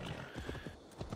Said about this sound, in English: we can take our horse